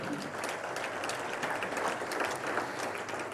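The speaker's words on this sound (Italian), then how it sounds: "fate un applauso anche a loro due" An audience at the opening of the 83rd Fiera del Levante breaks into sustained applause, a dense, even wash of many hands clapping that holds steady throughout.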